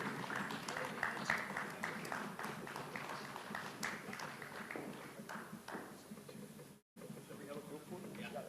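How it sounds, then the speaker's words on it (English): Applause for a panel at a startup summit, a steady crowd of many hands clapping under murmured voices, sustained for several seconds before briefly cutting out. "A big round of applause for this wonderful panel."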